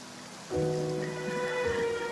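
Steady rain falls in Genshin Impact, a broad hiss that swells sharply after a quiet start and holds at a constant level, with faint tonal game music layered over it.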